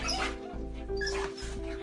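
A Golden Retriever whimpers and yips excitedly on reuniting with its owner after months apart, with high whining cries over a steady background hum and a faint voice.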